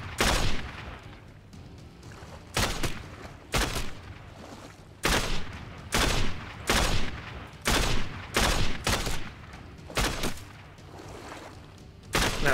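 Gunfire from the PC game Crysis Warhead comes in repeated loud bursts of rapid shots separated by short pauses, heavy and close, with no talk over it.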